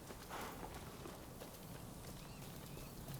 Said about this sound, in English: we'll just ride the horse in the distance